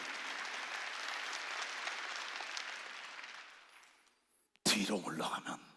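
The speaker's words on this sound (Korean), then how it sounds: "박수 쳐. 더 큰 일을 위하여." Church congregation at a Sunday worship service clapping together, a dense, even wash of applause that fades out, followed by a sudden burst of speech.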